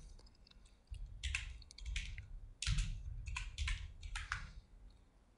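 Keys on a computer keyboard clatter in several quick, uneven bursts of typing with short pauses between them, close by and fairly quiet, with no voices.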